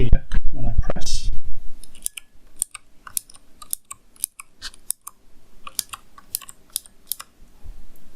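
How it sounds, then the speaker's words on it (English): Optical switches on a Razer Huntsman Mini keyboard click sharply one after another in an irregular rhythm, close and crisp, after a brief burst of louder handling noise at the start. "This particular one comes with the optical switches, so they have a very distinct click to them"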